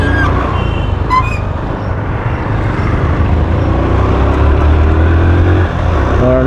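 Motorcycle riding fast on an open road, its engine drone and rushing wind noise steady and loud throughout, recorded close from the rider's position.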